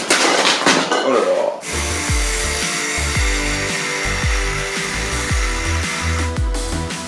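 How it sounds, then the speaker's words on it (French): A small angle grinder cuts through metal during home renovation work on a suspended fireplace. After a brief lead-in, it gives a loud, continuous whine with repeated rising and falling surges as it bites into the piece, with no talk over it. "Et voilà, petite meuleuse d'angle."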